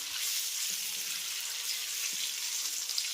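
An egg, scored on its surface, fries lightly in hot oil, giving a soft, steady sizzle with faint crackles, heard close and alone.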